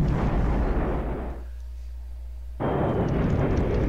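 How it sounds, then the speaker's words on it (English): Artillery and mortar shells burst in a war strategy video game, dense heavy rumbling blasts at the start, a brief quieter lull, then another loud sustained explosion. "We get one more explosion, but the unit is not wiped out."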